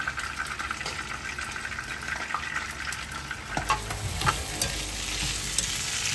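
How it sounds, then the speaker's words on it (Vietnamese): Fish being stir-fried in a pan with pickled bamboo shoots, a close, continuous sizzle with scraping and tossing of the spatula, growing busier toward the end, with no talk. "Mình cho măng nhút vào đảo qua đi các bạn nhé."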